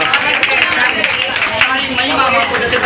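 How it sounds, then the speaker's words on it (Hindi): A church congregation at an Easter celebration service claps together, a dense, steady wash of many hands that fills the room, with voices calling out over it. "अरे तालियां बजा दो।"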